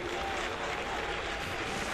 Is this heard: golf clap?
yes